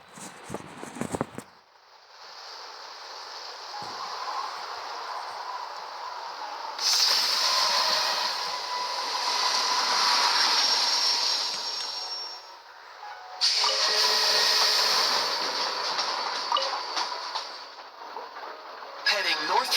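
A train runs in the video game Genshin Impact as a steady hissing rumble, rising louder in two long stretches, with a brief clatter at the start.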